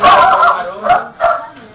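A dog gives a few sharp, yappy barks in quick succession, fairly close and loud.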